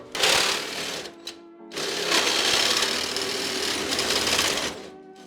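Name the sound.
reciprocating saw (Sawzall) cutting a radiator support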